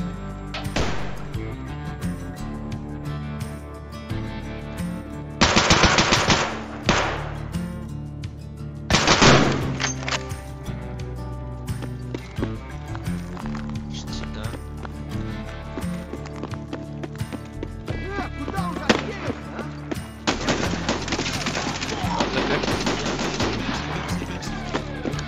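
Gunfire in Escape from Tarkov, with bursts of loud shots cutting through the game's background noise and a heavy volley near the end.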